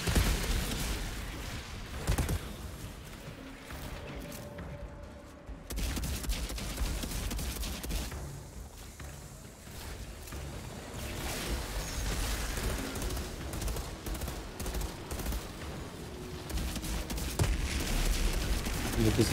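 Gunfire in the Outriders endgame combat keeps going through most of the stretch, with dense bursts and shots mixed with game effects and a brief lull near the middle.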